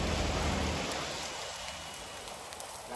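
Steady rain pours down outdoors where a new scooter is parked, a dense, even hiss that stays loud throughout, with no voices.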